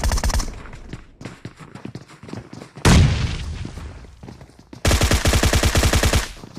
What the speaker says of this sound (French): Grenade à l'intérieur, grenade à l'intérieur.